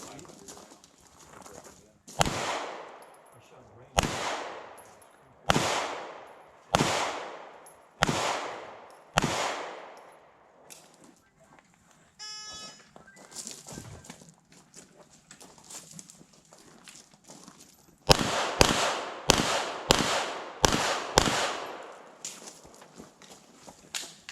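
Handgun shots ring out one at a time at an outdoor shooting session, a series of loud sharp cracks with echoing tails, a quieter stretch with some voices, then a faster closing string of shots.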